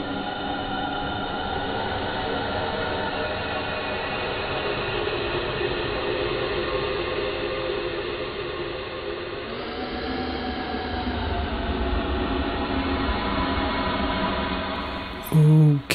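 Train and rail recording run through the ValhallaDSP SuperMassive reverb plugin, a dense, continuous washed-out roar with smeared tonal layers that shift upward midway and end in a brief loud burst.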